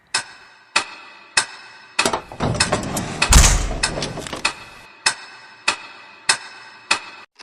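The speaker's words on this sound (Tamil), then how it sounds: "இப்போ கதவை லாக்க உடைக்கிறதுக்கான பலமான சத்தமே கேட்டுச்சு அவளுக்கு" A door lock being forced open as a sound effect in a Tamil audio thriller: evenly spaced loud metallic knocks and thuds, with a short burst of rattling and cracking in the middle, close and clear.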